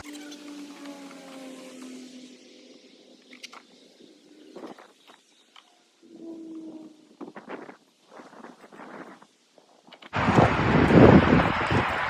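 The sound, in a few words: wind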